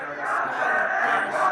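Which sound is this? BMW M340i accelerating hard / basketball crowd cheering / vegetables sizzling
basketball crowd cheering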